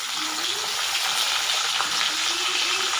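Garlic and onion fry in oil for a katla fish curry, making a steady, bright hiss of sizzling with faint bubbling that carries on evenly throughout.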